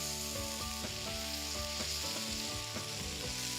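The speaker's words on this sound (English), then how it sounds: "And then we'll turn it once more and sear the other side." Bacon and albacore sear on an Arteflame One Series grill over a wood fire, a loud, steady, close sizzle and crackle with faint scraping touches, no voices.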